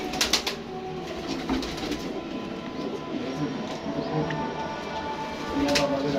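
Rampuri pigeons coo in a loft, soft low calls repeating through a continuous mechanical rumble, with a few sharp clicks near the start and end.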